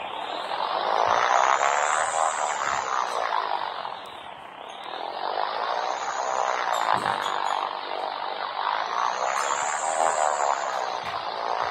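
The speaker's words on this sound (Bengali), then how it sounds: "এই যে উঠে পড়বে বিমানটা ডিগবাজি খাওয়া দেখিব" An airplane in a 3D video game rises in a steady, loud buzzing engine drone that swells and dips in pitch in repeated sweeps, with no talk over it.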